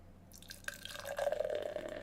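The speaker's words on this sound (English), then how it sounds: "Straight into the pint glass." Beer poured from a can straight into a pint glass: a gurgling, splashing pour of a dark, heavily carbonated stout that builds into a steady fizzing stream, close and moderately loud with no talk.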